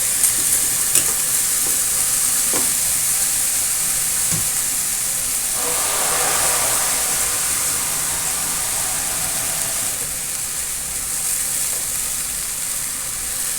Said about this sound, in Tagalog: Diretso gisa. Hindi na pinalambot yung munggo.